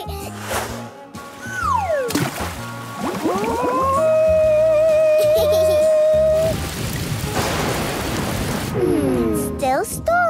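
Rain pours steadily with rumbling thunder, while cartoon voices and tonal squeals play over the stormy wash, in the animated series Hey Duggee.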